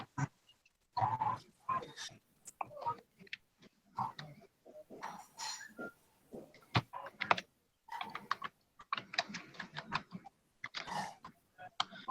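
Someone types on a computer keyboard in irregular bursts of close, crisp key clicks separated by short pauses.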